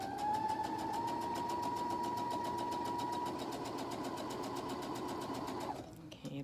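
Sewing machine running a straight stitch on fabric, a steady fast rhythmic whirring with a regular needle pulse, close and continuous for several seconds before stopping.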